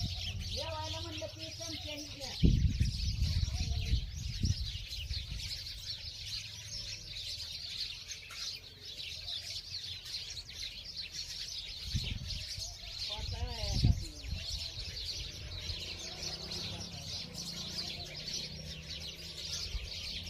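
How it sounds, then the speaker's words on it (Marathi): A flock of sparrows chirping continuously near trees, a bright busy twitter at moderate distance throughout, with people talking briefly at times over it. "चिमण्यांचा चिवचिव"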